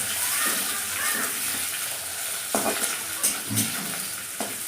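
Chopped onion fries in hot oil for a mutton curry, with a bright continuous sizzle and occasional stirring clatter and scrapes in the pan.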